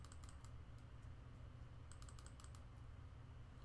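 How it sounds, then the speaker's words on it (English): Rapid computer keyboard and mouse clicks while playing a video game, quiet and close, arriving in short irregular bursts over a low steady hum. "Wonder if you can hear the clicking"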